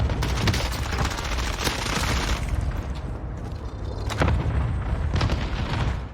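Gunfire in the Call of Duty Warzone video game comes as dense, continuous bursts of rapid shots and booms. The clip is loud and busy, with brief gaps and renewed volleys and no clear talking.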